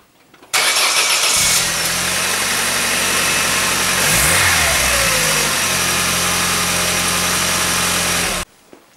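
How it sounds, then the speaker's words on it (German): An Opel engine, on a Corsa, Kadett, Vectra, Astra or Ascona with a newly replaced injection temperature sensor, cranks briefly, catches, and settles into a steady loud idle with a small rev before cutting off. "jetzt wo der ganze Rotz wieder zusammen ist, können wir mal anwerfen und gucken, ob er anstrengt."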